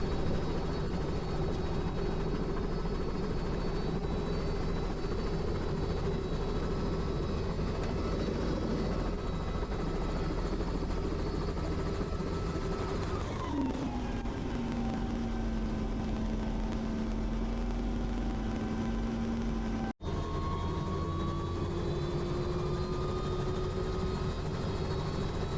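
A light aircraft engine running in flight with its cowling removed, a steady loud drone with a strong low hum whose pitch drops and settles about halfway through, continuous with no voices.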